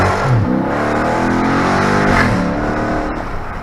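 The exhaust of a Dodge Charger Daytona 392 revs hard and loud on the street, a deep rising roar that sweeps up and holds, then eases off near the end.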